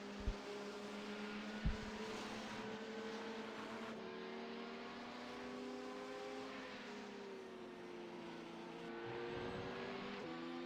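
Steady engine drone of an LMP1 prototype race car in a Le Mans endurance racing video game, a continuous whine holding throughout with slight pitch shifts and a couple of brief thumps near the start.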